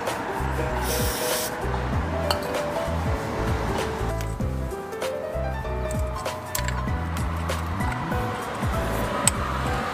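Cleaner hisses from a spray can onto the oil cap of a Yaolong Boyue three-wheeled motorcycle during an oil change; a long continuous spray with a steady, close hiss plays under low rhythmic background noise.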